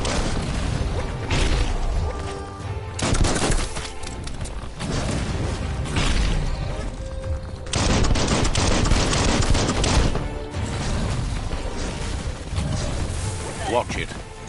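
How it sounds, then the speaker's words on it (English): Gunfire in a Resident Evil game rattles in dense, overlapping bursts that swell and ease across the stretch, loud and close with mechanical clatter throughout. "Bullets everywhere."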